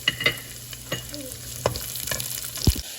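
Long-sliced beans stir-fried for chow mein in a hot pan: steady sizzling with scraping, clattering stirring strokes throughout, close and moderately loud.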